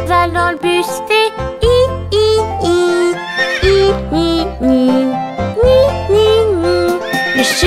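A horse neighing sung by a voice imitating it inside a French children's nursery rhyme about the wheels on the bus, with bright backing music and bass throughout.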